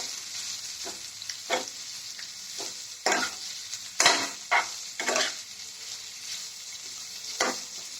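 Cabbage for chow mein being stir-fried in a hot pan, with a constant bright sizzle broken by several louder scraping stirs and tosses at irregular intervals, close by and with no talking.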